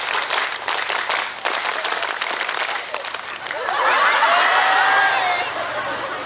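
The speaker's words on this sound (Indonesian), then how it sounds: "Tepuk satu. Tepuk dua. Tepuk tiga. Tepuk pramuka." An audience performs the Indonesian scout clap, tepuk pramuka, at a religious lecture gathering: dense clapping that swells together, then crowd murmur and light laughter with a sustained tone near the end.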